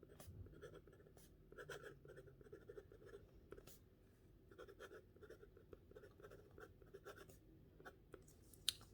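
Extra fine nib Platinum fountain pen writing on paper, a quiet run of soft scratchy strokes and small taps, each stroke brief and close, with slight pauses between letters and no voices.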